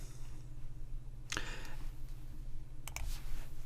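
Two crisp computer mouse clicks over a steady low hum, the first alone and the second a quick double click near the end, close and fairly quiet.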